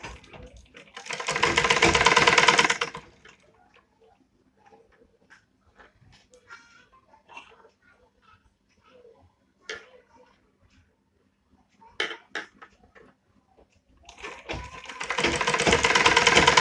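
A sewing machine stitching a child's night suit runs in two loud, steady whirring bursts at the start and end, with quiet fabric handling and small clicks between.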